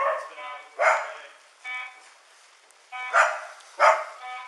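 A dog, agitated while an alarm goes off in a house, lets out four or five sharp, mid-distance barks at irregular intervals, with quiet gaps between them.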